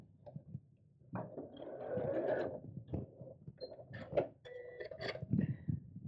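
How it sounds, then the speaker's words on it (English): A sewing machine stitches across the end of a fabric tube for a purse organiser, faint and close, with short bursts of mechanical whirring and clicking separated by brief pauses. "I'm just going to sew across that end to secure it"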